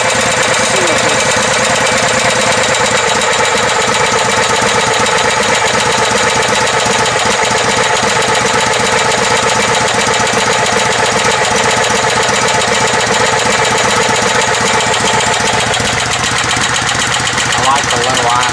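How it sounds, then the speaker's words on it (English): A Kohler CH20 engine with a new carburetor idles low on a tow rig tractor, a loud, steady, close mechanical drone that holds for the whole stretch, with someone talking over it. "I like the low idle. That is as low as I've ever had the idle on this."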